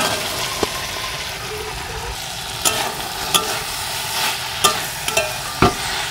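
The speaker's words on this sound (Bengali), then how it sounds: "এবার আমি সেদ্ধ করে রাখা ছোলা এর মধ্যে দিয়ে দেব" Boiled chickpeas tipped into hot spiced oil in a pan and stirred, giving a steady close sizzle with a few sharp scrapes and clatters of the spoon, no talking.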